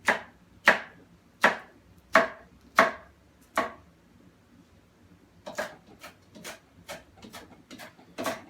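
A knife chops guacamole ingredients on a cutting board: six sharp, evenly spaced strikes, a brief pause, then a quicker, softer run of close taps.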